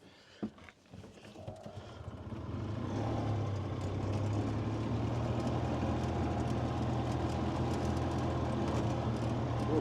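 A Gizmo 28 vehicle drives around a woodyard, its engine rising into a steady, continuous rumble after a few quieter seconds with a thump near the start, holding loud and even to the end.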